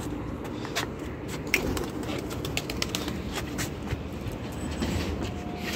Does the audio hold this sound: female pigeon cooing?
yes